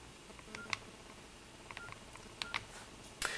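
Phone keypad pressed twice for the pound key, giving short DTMF beeps that sound faint and thin over steady background hiss, with a brief louder tone near the end.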